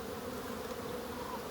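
Honeybees swarming over an opened beehive, a dense steady buzzing hum from many insects close by, continuous and without speech.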